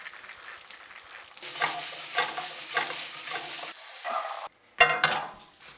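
Beans tip into a hot pan with a sizzle, then a utensil stirs and scrapes them in steady rhythmic strokes, close and moderately loud, ending in a brief sharp clatter.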